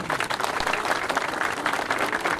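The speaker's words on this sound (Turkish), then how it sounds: "kuvvetli bir alkış istiyorum" Audience applause at a Turkish public event launching hydrogen buses, a steady, dense wash of clapping from a crowd that stays loud and even throughout.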